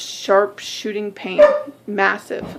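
A pet dog barks indoors in several sharp, loud yaps spaced through the moment, overlapping with a person talking nearby.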